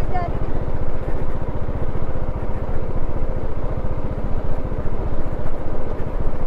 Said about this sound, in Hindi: मैं तो इंटर की बाइक लेके जा रहा हूँ।